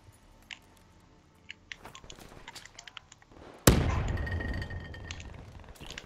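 A grenade detonates in a tactical search-and-destroy shooter match, one loud sudden blast with a long rumbling decay, after scattered footsteps, clicks and small game noises.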